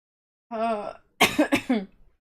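A single person coughs and clears their throat nearby: a short rasping throat sound followed by a quick burst of two or three coughs.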